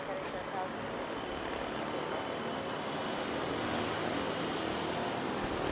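An airliner taking off at Manila airport in the Philippines gives a steady, loud, broad roar of jet engines that holds level for the whole stretch, with faint background noise underneath.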